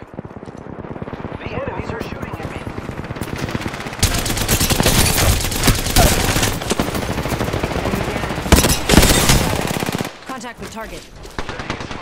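Rapid bursts of automatic gunfire from a battle royale video game, loud and sustained through most of the stretch with sharp peaks, mixed with game voice callouts and talk.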